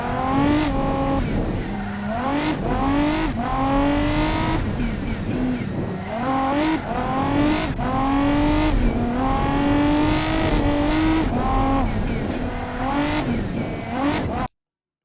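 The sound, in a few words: car driving in BeamNG video game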